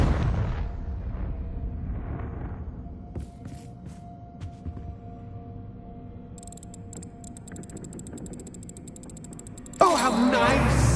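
A Confringo blasting spell explodes in Hogwarts Legacy, a heavy rumbling boom that fades into lingering crackles and debris, with a sharp burst of game sound near the end; a voice speaks briefly at the start.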